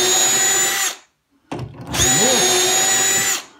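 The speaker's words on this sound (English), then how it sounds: "and drill them like that" A power drill boring holes through a woodworking cabinet carcass guided by a drilling jig: a loud steady whine for about a second, a brief stop, then another long continuous run at close range.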